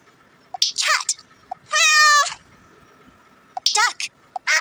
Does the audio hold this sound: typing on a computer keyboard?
no